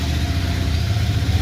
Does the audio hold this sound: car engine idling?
yes